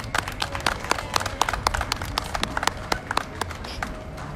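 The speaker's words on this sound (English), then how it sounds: "So they deserve a huge round of applause," An indoor audience claps at a presentation, a steady patter of many hands with sharp individual claps standing out, continuous for the whole stretch.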